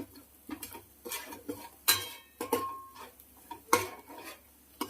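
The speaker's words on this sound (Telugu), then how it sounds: "ఇప్పుడు చేపలు వేసుకుందాం." Fish pieces going into a pan of fried spice masala for a home-style fish curry, with scattered clattering knocks and scrapes of utensils against cookware, close and moderately loud, no talking.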